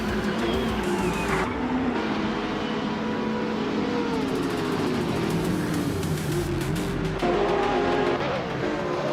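A 2004 Ferrari F360 GTC race car screams around the track in a racing game, its engine loud and close, rising and falling through gear changes over a continuous roar with a sharp upshift near the end.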